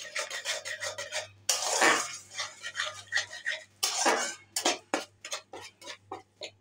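Potatoes with spices being stirred and sautéed in a pan for vegetarian aloo dum, a close, busy series of metal spoon scrapes and clinks in uneven bursts with short pauses.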